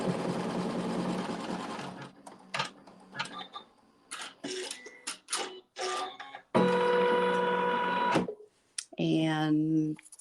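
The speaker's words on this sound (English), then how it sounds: "sew another tack down stitch to hold it in place." Sewing machine running in several bursts of tack-down stitching on log cabin quilt fabric, close and steady, with short pauses and handling noises between runs.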